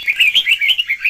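A male cage bird, a trung mang type singer, sings a continuous run of bright warbling chirps and trills, close and fairly loud, with no other sounds.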